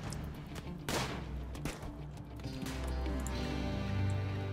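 Gunfire in a modded Rimworld Alpha 17 firefight, a scattered run of sharp shots at irregular intervals over a dense, constant rumble of battle ambience.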